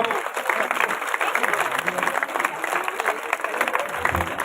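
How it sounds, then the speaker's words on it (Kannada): Loud, dense applause from a crowd at a village yoga program, many hands clapping in a fast continuous roar close by, with voices mixed in underneath. "ತಮಿಳ ಜೋರಾದ ಚಪ್ಪಾಳೆ ಬರಬೇಕು."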